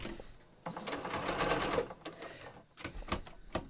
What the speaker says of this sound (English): So I'm just going to start sewing.